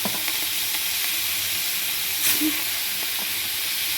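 Prawns fry in hot oil with turmeric and salt, giving a steady close sizzle and hiss with faint stirring clicks and one brief scrape midway.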